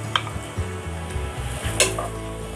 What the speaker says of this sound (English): We saute the onions for about 1 minute until it's translucent.